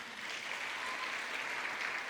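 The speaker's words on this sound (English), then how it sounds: "Another round of applause, please." Sustained applause from a graduation audience at a Faculty of Commerce ceremony, a steady dense wash of many hands clapping at even loudness throughout, with no voices over it.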